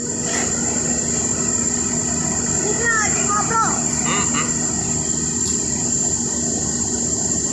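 Passenger train with its locomotive on the line to Lampung, giving a steady rumbling drone with metallic squeals midway and high tonal whine throughout, fairly loud and continuous.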